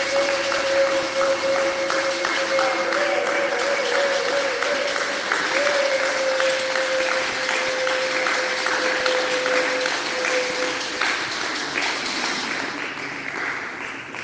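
A church congregation applauds and cheers in praise, a dense sustained clapping that fills the room for the whole stretch, with a voice calling out over it, then slowly tapering toward the end.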